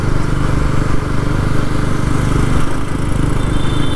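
Bajaj Pulsar NS400 motorcycle running in rain mode, its engine a loud, steady close-up drone with a dense low rumble that holds for the whole stretch and has no voices over it.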